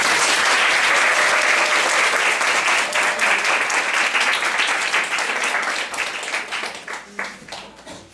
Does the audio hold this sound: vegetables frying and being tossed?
no